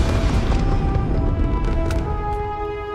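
Fireworks bursting in the space game Starfield, a dense run of booming, crackling blasts that stays loud and close for about three seconds with no talk.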